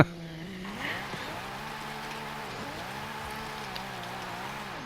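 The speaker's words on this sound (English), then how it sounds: "Literally drifting around cars." Forza Horizon 5 car drifting under steady throttle: a sustained engine whine that rises and falls across repeated shifts, with a tire squeal layered over it, loud and continuous with no talking.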